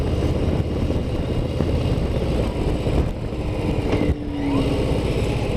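Harley-Davidson Low Rider ST motorcycle engine under way on a mountain road, a steady deep low-revving rumble with wind roar and a brief dip partway through, loud and close throughout.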